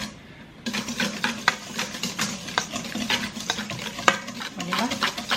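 Food being stirred in a hot frying pan with Parmesan cheese, a steady sizzle under repeated scraping and clinking strokes of the utensil against the pan, close and fairly loud, with no talking.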